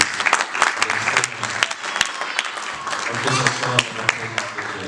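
A church congregation applauds together during a worship service, steady clapping filling the room with scattered voices and cheers mixed in.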